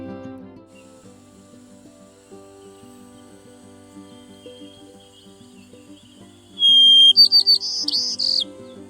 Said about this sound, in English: This pair of white-crowned sparrows just made our trip worthwhile.